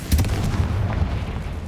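Confringo fire spell blast in Hogwarts Legacy: a loud, deep booming burst at the start that rolls into a sustained low rumble and crackle for under two seconds.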